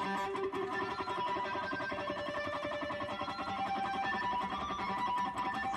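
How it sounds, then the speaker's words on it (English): Electric guitar being strummed while a finger lightly touches the strings along the neck to bring out harmonics, giving a steady, dense run of ringing chiming tones with effects and distortion throughout. "So that's the sound of a harmonic then,"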